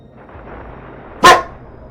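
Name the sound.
young German Shepherd puppy barking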